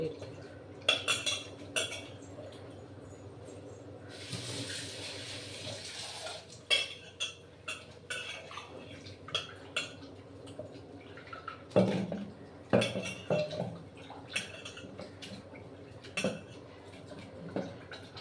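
Tamarind stirred and dissolved in water in a pot for a white cowpea and brinjal curry, with repeated clinks and scrapes of a utensil against the vessel, irregular and close, plus a brief watery swirl.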